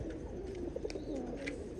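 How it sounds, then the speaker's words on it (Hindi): Soft, low cooing of a pigeon in a loft, a few gentle rolling calls close by over a quiet background. "दादा कबूतर दिखा रहा है"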